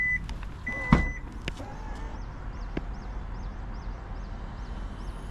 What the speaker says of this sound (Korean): 자, 이렇게 열립니다.